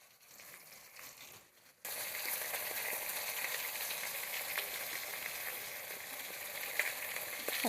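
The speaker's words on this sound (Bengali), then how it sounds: "আমি একটু তেলে অল্প করে লবণ দিয়ে দেবো, মাছটা ভালো ভাজা হবে, কড়াইয়ে লেগে যাবে না।" Rohu fish pieces rubbed with salt and turmeric fry in salted oil in a wok. After a quiet opening second or so, a loud, dense, steady sizzle bursts in and crackles on without pause to the end.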